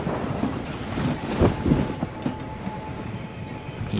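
Continuous low rumble of a train running in the video game Voidtrain, a steady rolling drone with wind-like noise throughout and no talk.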